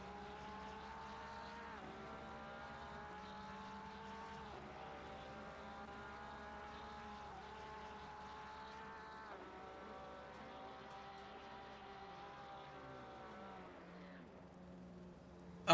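A Porsche race car running laps at the Red Bull Ring, its engine note rising and shifting through gears at a distance, steady and moderately quiet throughout.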